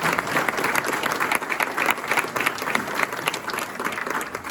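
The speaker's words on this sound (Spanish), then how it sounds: "Vamos a darle un fuerte aplauso." A congregation at a church conference breaks into strong, continuous applause, a thick, fluttering mass of clapping with uneven swells throughout.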